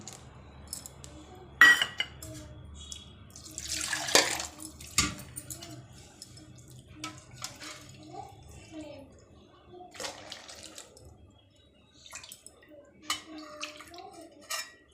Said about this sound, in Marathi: आता मी मिक्सरचं भांडं पाण्याने धुवून घेते